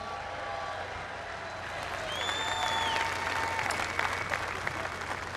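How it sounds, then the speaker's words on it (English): An outdoor crowd at a Coast Guard Academy commencement applauds the Coast Guard Band, a dense wash of steady clapping that builds slightly midway and holds, with faint whistles over the top. "Just in time for a big round of applause for the Coast Guard Band."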